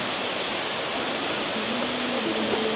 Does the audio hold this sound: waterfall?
yes